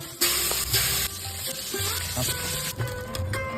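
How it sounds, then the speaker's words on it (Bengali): Fish rubbed with salt and turmeric fry in hot oil, a steady dense sizzle broken by brief clinks and stirring scrapes of a utensil against the pan. "নুন হলুদ মাখিয়ে মাছগুলো ভেজে নেব"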